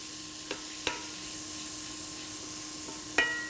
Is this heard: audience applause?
no